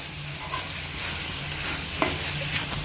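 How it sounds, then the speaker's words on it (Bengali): Ginger-garlic-onion paste masala sizzles softly as it is stirred and fried in a pan, a low continuous hiss broken by a few light scraping taps; no talking. "এবার একসঙ্গে মশলাটা আবার কষিয়ে নেবে।"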